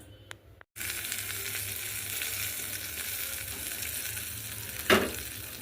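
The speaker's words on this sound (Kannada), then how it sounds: "ಇದಕ್ಕೆ ಒಗ್ಗರಣೆ ಹಾಕ್ಕೊಂಡೆ ನಾನು ಸಾಸಿ ಬ್ಯಾಳಿ ಹಿಂಗು ಕರಿಬೇವು ಹಾಕಿದ್ದೆ" Oil sizzles steadily with mustard seeds, gram dal, asafoetida and curry leaves, a crackling hiss after a brief cut at the start, close and uninterrupted, with a sharp clatter near the end.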